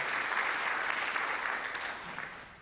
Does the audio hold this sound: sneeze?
no